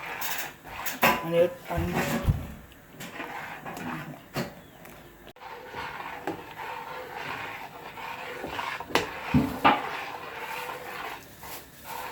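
Corn flour mixture being stirred constantly in a pot as it thickens, with intermittent scraping and knocking of the spoon against the pot, moderately loud, alongside background noises.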